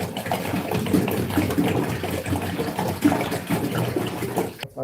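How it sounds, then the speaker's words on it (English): Water pours into the reservoir tank of an indoor Gardyn garden planter, a steady splashing trickle close to the microphone that stops abruptly at the end. "Be adding water to this tank."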